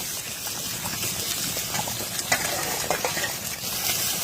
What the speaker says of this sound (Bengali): দেড় কাপ পরিমাণ জল দিয়ে